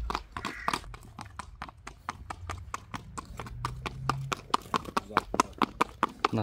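A pure Kyrgyz blue-grey stallion for sale in Kok-Jangak, Jalal-Abad region, clip-clops along at a steady walking pace, its hooves striking evenly, fairly close, with faint background noise.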